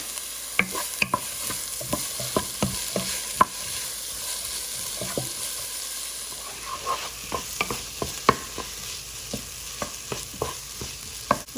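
Thinly sliced onions cook with a pinch of salt in oil, making a soft sizzle with repeated sharp clicks and scrapes from a spoon stirring them in the pan.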